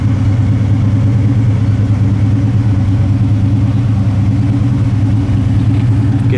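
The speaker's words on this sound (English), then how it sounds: "Dual exhaust sounds good." A 1979 Camaro Z28 running through dual exhaust, a loud, steady, deep rumble held at a constant idle throughout, close to the pipes, with no talking.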